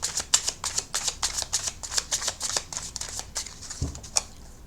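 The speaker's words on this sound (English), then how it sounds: "I want to do a bit more shuffling and another rifle on these" Tarot cards riffle shuffled close up, a rapid run of crisp papery flutters in quick bursts, with a soft tap near the end.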